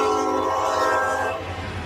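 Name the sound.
truck air horn blowing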